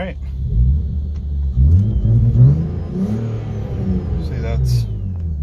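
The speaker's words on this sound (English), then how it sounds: "revving it up a few times." A BMW E36 car engine revs up and down a few times, a rumbling growl rising and falling over a low idle.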